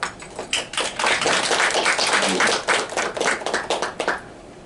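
Audience claps to welcome Professor Jang Hee-sun to the stage at a lecture on nuclear hydrogen and carbon neutrality; a dense, steady round of applause fills the room before fading out near the end.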